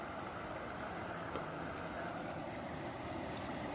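Water pours down steadily like a small waterfall where women are washing clothes, a continuous broadband rush that stays even and fairly close throughout with no pauses.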